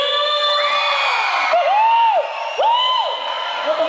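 Crowd at a forró festival celebrating the anniversary of Taboão da Serra shouting and cheering loudly and continuously, with rising whoops and cries layered over each other throughout.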